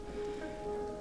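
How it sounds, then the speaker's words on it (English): Steady heavy rain pours down on an outdoor football match in a TV drama, a dense continuous hiss filling the whole second with no voices over it. "I also can't believe they're playing in this much rain."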